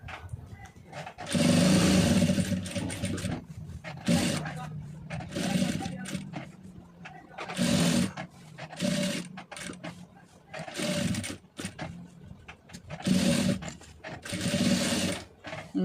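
A domestic sewing machine stitching a piping design with a small stitch length runs in several bursts of steady whirring, stopping and starting again, with a voice speaking at times between runs.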